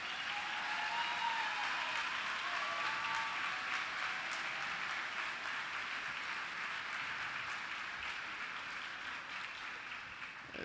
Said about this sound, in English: Why don't you give them a round of applause?